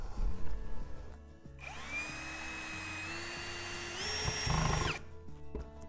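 A cordless screwdriver drives a screw while a shelf mounting plate is fixed in place: a loud, close motor whine holds steady for about three seconds and rises in pitch, then stops abruptly, with handling knocks before and after.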